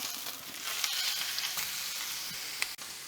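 A freshly flipped ribeye steak sears in a hot pan, making a bright, steady hiss close by with a few small crackles and one sharp knock near the end.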